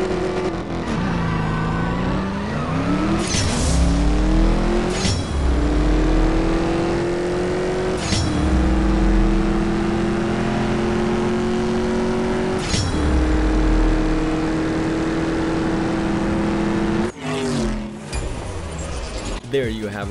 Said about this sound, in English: let's actually go ahead and enjoy the sound of this car